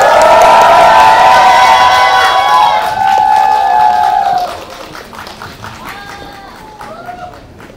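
A cinema audience at Lotte Cinema Bucheon claps and cheers as the director and actors of the film The Moon come out for a stage greeting, loud at first and then fading, with talk and shouts over it.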